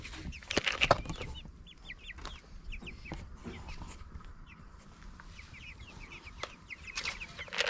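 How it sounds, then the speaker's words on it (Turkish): Chickens and chicks in a coop cluck and cheep softly, with short repeated peeps over a low hum, faint and fairly close, broken by a few brief knocks and rustles, with no talk. "Bakın şurada bir sakat civcivimiz var."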